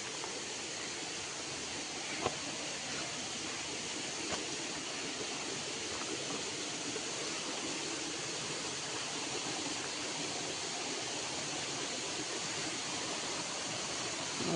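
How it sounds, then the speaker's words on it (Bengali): The Tel Gatti waterfall in Hailakandi rushes as a constant, broad, even wash of falling water heard from a distance, quiet and unbroken throughout. "ওই ঝর্ণা জলের শব্দ করে"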